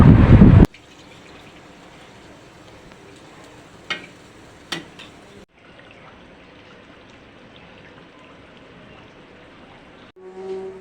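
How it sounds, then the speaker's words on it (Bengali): Water poured into a wok of spice-coated meat cooked in oil gives a steady, close rushing pour lasting about ten seconds. A loud clatter comes just before it, with a couple of brief knocks partway through. "এখন পানি দিয়ে দিব।"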